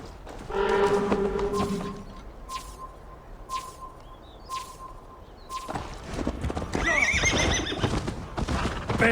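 A horse in Assassin's Creed Valhalla neighs sharply near the start, then gallops with rapid rhythmic hoofbeats that fade in and out before a second burst of whinnying, under faint birdsong and without talk.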